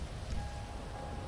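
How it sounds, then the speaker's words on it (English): Rain falls in the video game GTA, a soft steady hiss of drops that stays faint and even throughout. "Why is it raining? I hate this weather."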